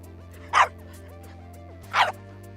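A bulldog bark plays from a computer search result: two short, sharp single barks about a second and a half apart, over a steady hum of background game music.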